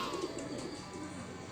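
A racing pigeon coming home to its loft during a race, with a short burst of soft pigeon cooing close by and low background noise.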